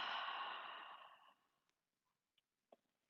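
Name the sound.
long deep exhale through the mouth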